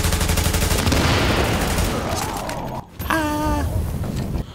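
Turret gunfire in The Division video game rattles loud and continuous, then breaks off briefly, with a voice groaning or moaning over the later shots.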